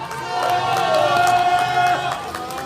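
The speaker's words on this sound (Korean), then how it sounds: "박수 한번 부탁드리겠습니다" A crowd applauds and cheers, steady clapping and voices blending into a loud wash of noise for a couple of seconds.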